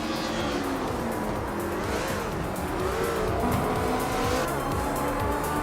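A 2008 Dodge Viper SRT races in a video game, its engine roaring loudly and steadily, with squealing tires running through the whole stretch.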